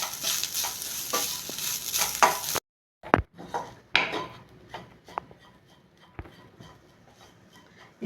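Grated coconut roasts in ghee with a soft sizzle and the dry scrape of a spatula against the pan, a short gap followed by repeated stirring scrapes that fade toward a quiet finish.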